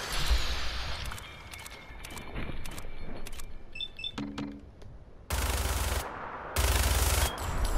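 Gunfire in the video game Fallout 4 during a fight with a Deathclaw, scattered shots and short bursts followed by two loud sustained blasts near the end.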